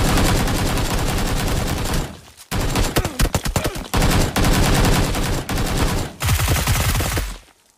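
Loud gunfire in PUBG PC Lite on the Vikendi map, sustained rapid automatic bursts broken by short pauses, close and dominant with no talk over it.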